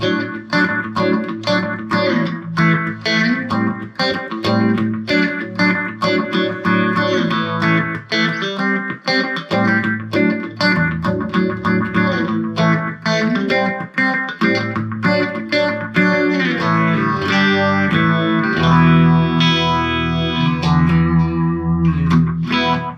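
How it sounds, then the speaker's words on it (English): Electric guitar through an MXR Phase 95 phaser pedal into a Fender Rumble 40 amp strums and picks busy chords with a swirling, sweeping tone, loud and continuous throughout, no talking. "I've got an MXR Phase 95 here, so let's try that one."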